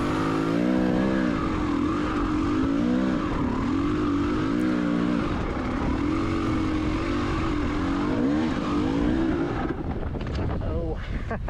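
A KTM 300 XCW two-stroke dirt bike engine drones and revs steadily on a rocky trail, loud and close throughout, with a rider speaking over the continuous engine noise.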